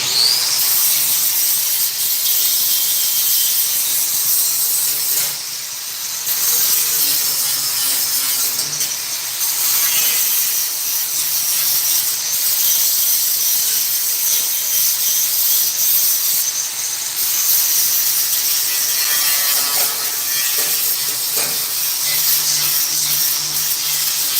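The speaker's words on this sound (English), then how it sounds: "I'm going to take the grinder and the flapper here, and I'm going to clean this up a little bit before I weld anymore" An angle grinder fitted with a flap disc grinds down welds on metal, producing a loud, continuous abrasive hiss that dips briefly now and then as pressure shifts, steady and close for the whole stretch without any talking.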